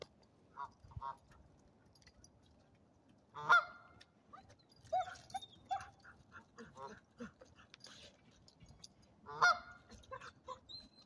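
A bird near water gives repeated honking calls in scattered bursts, fairly close but moderate in level, while a dog whimpers softly in between.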